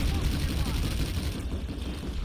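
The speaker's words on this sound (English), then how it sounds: "I didn't know this gun had a burst fire mode" Rapid gunfire from a gun in a burst fire mode in Planetside 2, dense overlapping shots rattling continuously through a short stretch, loud and close, with a voice talking faintly underneath.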